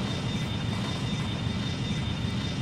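Steady loud roar of an airliner's engines during takeoff, a constant low rumble with a broad hiss on top and no voices.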